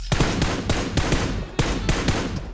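Rapid bursts of gunfire in the mobile battle game PUBG Mobile, loud and close, with dense repeated shots in two quick volleys separated by a brief gap.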